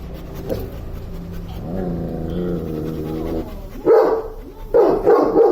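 A dog barks loudly and close by, with a sustained growly vocal sound followed by two sharp bursts of barking near the end.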